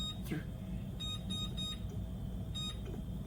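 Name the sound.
kitchen timer beeping while cooking stovetop biscuits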